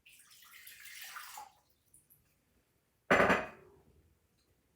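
Water poured into a bowl for a pretzel bath, a steady splashing pour for about a second and a half, then a second short, loud burst of pouring after a pause.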